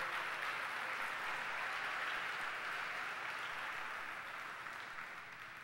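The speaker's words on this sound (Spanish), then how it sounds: "Dele su mejor aplauso al Señor en esta mañana." A church congregation at a Sunday morning service applauds in a steady, even wash of clapping from many hands that fades slightly toward the end, without voices.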